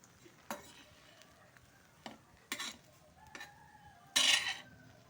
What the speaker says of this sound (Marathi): असं हलवत राहायचं कारल्याला.